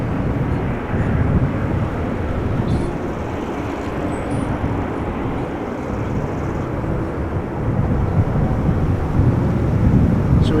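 Narrow-body airliners arriving at Amsterdam Schiphol Airport, a low, steady jet rumble heard from outdoors at a distance, swelling slightly toward the end, with wind buffeting the microphone.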